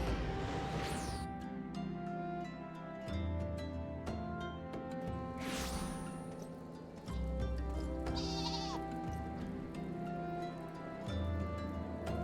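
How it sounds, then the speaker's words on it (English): Sheep in the video game Final Fantasy XIV bleat repeatedly over a steady bed of game music and ambience, the calls recurring every few seconds and fairly prominent in the mix. "Bye, sheep."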